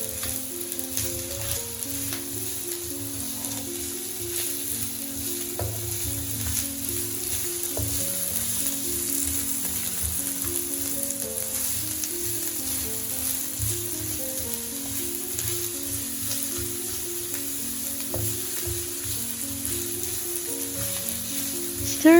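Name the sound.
chopped onions frying in heated oil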